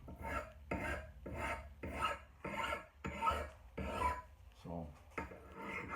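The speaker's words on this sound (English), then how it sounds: "we're actually putting another bevel, just a really small micro bevel, on the very edge to take that wire edge off of his axe" An axe edge being given a small micro bevel on a grinder, about nine rhythmic rasping passes in quick succession, close and moderately loud.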